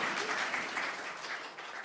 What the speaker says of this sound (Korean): 멀리서 와주신 강찬우 과장님께 감사의 박수 부탁드립니다